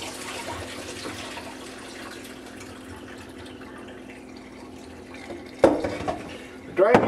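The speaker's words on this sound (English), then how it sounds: "Drain these little cucumber rings." Soaked cucumber rings for pickling are drained of their cold soaking water, with a steady wash of trickling liquid followed by two clattering knocks near the end.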